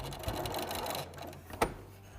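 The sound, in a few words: sewing machine stitching a spring banner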